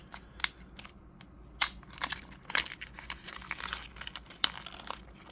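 A small plastic bag holding spare action-figure hands crinkles and rustles in short, irregular bursts, close and quiet, without speech.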